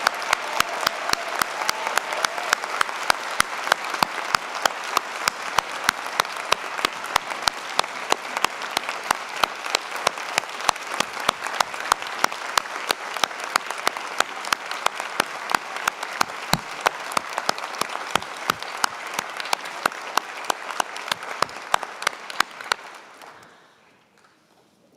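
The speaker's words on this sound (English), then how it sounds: "Let's give our graduates a round of applause." Sustained applause from a large audience fills an indoor university convocation ceremony honoring graduates, dense and steady for over twenty seconds before fading out at the end.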